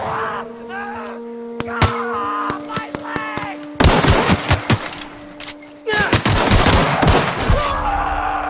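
Enemy gunfire in The Outer Worlds, a sci-fi shooter game: sharp, rapid cracks of shots and dense bursts of fusillade erupt over a sustained electronic tone and game ambience, with voices muttering briefly between the loudest volleys.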